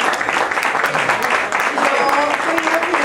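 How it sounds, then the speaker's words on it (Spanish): A crowd gives a long, steady ovation to Colombian musicians at a memorial tribute. Dense clapping fills the whole stretch with a bright, even wash of noise, and crowd voices are mixed in. "vamos a despedir con un fuerte aplauso a todos los músicos de Colombia"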